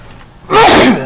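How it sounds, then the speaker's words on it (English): A single close, loud human sneeze bursts out abruptly after a moment of quiet room tone, with a short breathy tail. "excuse me, had to sneeze."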